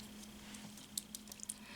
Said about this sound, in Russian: И также тщательно взбейте все компоненты.